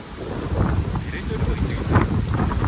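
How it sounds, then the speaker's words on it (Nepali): Strong wind buffeting the microphone at a beach in uneven low rumbling gusts, with a faint roar of surf and distant voices underneath. "आज त लास्टै हावा चलिरहेको छ नि।"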